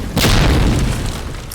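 A grenade explodes in Medal of Honor: Allied Assault multiplayer, a loud, close boom that bursts suddenly and then rolls out into a long, steady rumble.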